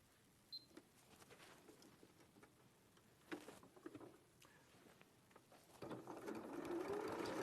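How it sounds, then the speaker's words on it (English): A sewing machine stitches fabric to separate pockets, with the stitch length set to 3. It starts as quiet, scattered whirring and ticking bursts, then settles into a louder, steady run near the end. "So I'm just going to sew now to separate the pockets"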